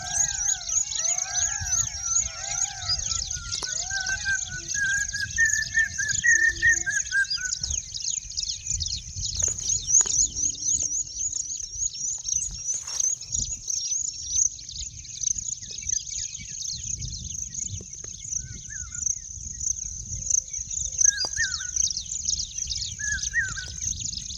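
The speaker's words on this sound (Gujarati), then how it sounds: "હવે વધારે પક્ષીઓનો અવાજ સંભળાય જો" Birds chirp and sing outdoors in green countryside, with repeated calls and short trills close by, over a steady high insect-like drone and a low rumble throughout.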